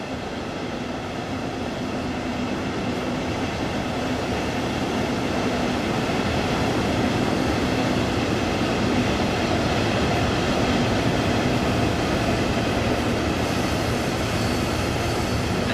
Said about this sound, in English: assuming that's our train coming in